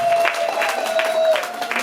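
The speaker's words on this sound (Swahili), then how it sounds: "mpigie Yesu makofi" A church congregation applauds at a deliverance service, steady dense clapping from a crowd with a faint sustained tone running underneath.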